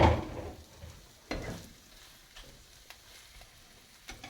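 Potato frittata with ham, mushroom and cheese frying in a pan, a quiet sizzle broken by a loud initial clatter and several soft knocks of pan and spatula, close, no speech.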